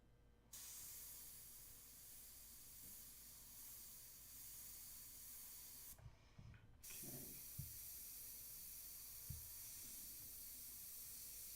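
A steady spray-paint can hiss runs almost the whole time, with a brief break and a few small knocks and clicks near the end.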